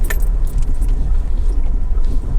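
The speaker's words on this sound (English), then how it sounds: "Excuse the brakes, it's just a little bit bumpy here." A vehicle on a bumpy campground track gives a close, loud low rumble with constant jangling and rattling of loose items and occasional brake creaks.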